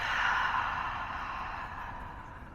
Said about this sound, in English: just starting to take some deep breaths in through the nose and out through the mouth